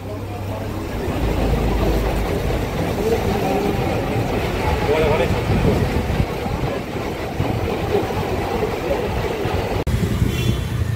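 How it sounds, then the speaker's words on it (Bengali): A ferry launch pulls in at the Konnagar ferry ghat after crossing from Sodepur, its engine a steady, loud, rumbling drone mixed with broadband wash that holds for the whole stretch. "এক্ষুনি এসে আমাদের যে লঞ্চ সেটা কিন্তু ওই ঘাটে লাগবে।"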